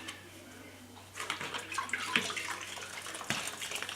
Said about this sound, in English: Just squeeze out the excess water